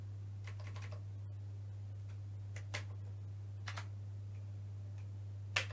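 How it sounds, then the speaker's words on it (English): Keys clatter on a Commodore C128 keyboard in quick irregular bursts of close clicks and taps, over a steady low electrical hum. "Oh, keyboard is working."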